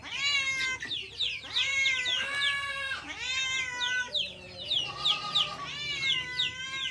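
A cat meows repeatedly close by while chickens cluck and squawk around it on a farm after a typhoon, the calls overlapping in an uneven rhythm.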